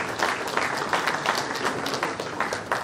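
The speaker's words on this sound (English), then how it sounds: "We are now clapping for the Vice Chancellor of the State University" Audience applause in a university lecture hall at a Faculty of Social Sciences guest lecture, a steady, dense round of many hands clapping that carries on throughout without voices.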